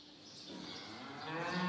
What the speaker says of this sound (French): retour dans le monde numérique avec des vaches connectées